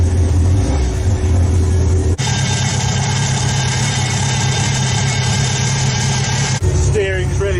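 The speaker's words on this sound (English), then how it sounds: "So after almost 3 years, we finally have this engine running." A stroked flat-four engine fitted in a Peugeot build runs close by with a loud, steady idle and a deep low rumble, briefly interrupted twice, with a voice heard at the very end.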